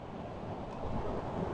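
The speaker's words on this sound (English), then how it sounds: "you notice how much calmer the sea's got. Waves have got a lot less." Calm sea waves wash steadily onto the shore at Dunwich, Suffolk. The surf makes a continuous broad rushing hiss with some wind noise and no distinct breaks.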